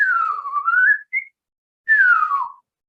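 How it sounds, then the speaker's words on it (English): A person whistles pure tones that glide up and down: a long rising-and-falling phrase, a brief short note, a pause, then a falling whistle, all clear and close with no other sound. "if I whistled, and let's see if I can do this"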